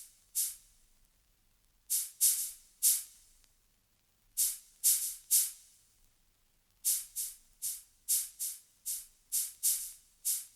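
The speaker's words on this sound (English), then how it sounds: "I use this white noise as my shaker" White-noise hits serve as a shaker in an FL Studio beat for a 2000s R&B track, bright hissy bursts arriving in sparse groups and then a denser rhythmic run, alone with no voice.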